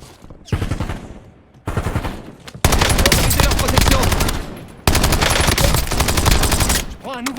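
Video game gunfire from Warzone, with bursts of automatic weapon fire in several loud stretches separated by short breaks, set against game sound effects.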